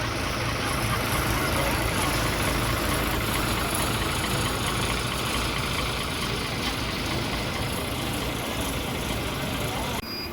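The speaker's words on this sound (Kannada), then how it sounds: "ಅಶೋಕ್ ಲೇಲ್ಯಾಂಡ್ ಗಾಡಿ ಇದು." An Ashok Leyland BS6 Amoghavarsha non-AC sleeper bus of KKRTC, Prakash-built, idles with a steady, loud, continuous engine rumble that holds unbroken for about ten seconds.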